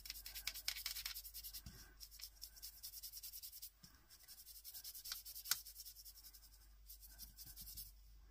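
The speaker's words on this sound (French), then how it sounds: "je vais colorier tout le cœur en bleu clair" Coloured pencil rubbing and scratching across paper while filling in a heart shape with light blue, steady close strokes with brief pauses and taps, faint and alone.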